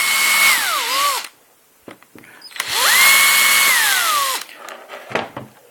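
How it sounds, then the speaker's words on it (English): A power drill making a pilot hole, with two loud close bursts of the motor winding up and spinning down. Short clicks and handling noises fill the quiet gap between them. "Just make a pilot hole."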